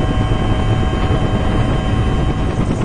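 A helicopter carrying skiers for heli skiing fills the air with a loud, steady, close rotor and engine roar that holds unbroken throughout.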